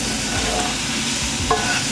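Garlic paste frying in a pan for a fish curry: a steady, close sizzle with a faint stirring scrape, alone with no voices.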